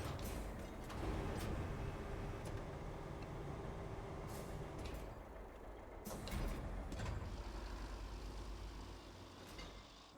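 Truck driving in a video game, a steady low engine rumble running under clanks and creaks from the chassis, with a few sharper knocks over rough ground.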